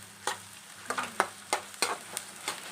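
Egg bhurji with onion fries in a pan while a spatula stirs it, giving sharp scraping strokes about every third of a second over a soft, steady sizzle.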